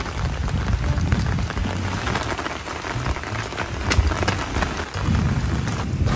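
Steady heavy rain pours and patters on surfaces outdoors, a dense continuous hiss with scattered louder drops, with no voices over it.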